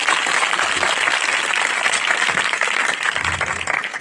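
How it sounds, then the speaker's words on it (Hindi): A crowd at an evening church gathering in Pakistan claps loudly and steadily throughout, a dense, continuous wash of applause. "जरा दोनों हाथों को लहराकर यीशु की हुजूरी के लिए जोर से ताली बजा दीजिए।"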